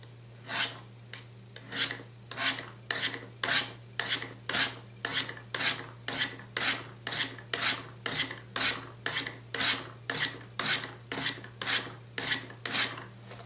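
A knife edge is drawn again and again across the ceramic stones of a Spyderco TriAngle SharpMaker, giving a steady, even series of about two dozen close, gritty rasping strokes over a low constant hum.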